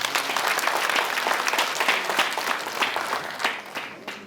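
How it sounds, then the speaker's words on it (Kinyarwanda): An audience applauds warmly for Gaspari, a thick patter of many hands close by, loud and sustained, tapering slightly in the final second. "mushimire Gaspari mumpera amashyi rwose"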